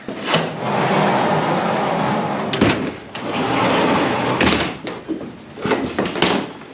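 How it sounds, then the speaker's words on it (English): A couple of doors at a horse barn are pulled shut, each bringing a rumbling slide and a heavy wooden thud against steady background noise, with several knocks and bangs close by. "I'm gonna close a couple doors quick here."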